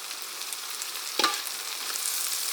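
Green chillies and curry leaves sizzling in hot oil in a village kitchen, a continuous bright crackle with a sharp spatter burst near the middle, no voices.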